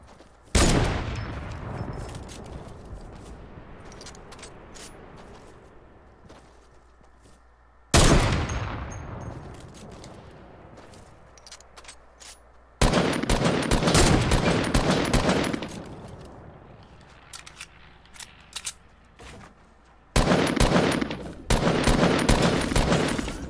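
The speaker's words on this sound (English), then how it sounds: "he's shooting at me" Fortnite gunfire comes in loud, sharp, rapid bursts separated by quieter gaps, with echoing tails after some shots.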